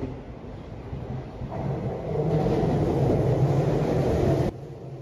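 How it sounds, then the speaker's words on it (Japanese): A Tokyu Oimachi Line local train, running through to the Den-en-toshi Line, rolls into a station across points with a low rumbling roar that swells louder midway, then cuts off abruptly; no voices. "大井町方面の、田園都市線直通の各駅停車の到着シーンをどうぞ"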